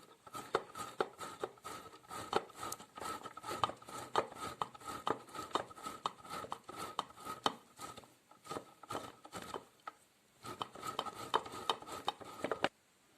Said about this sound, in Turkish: kaşar peynirimi de rendemi büyük gözüyle rendeliyorum